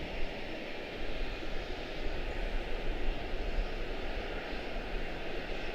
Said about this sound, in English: on departure now we have 1244 to Chicago O'Hare, A319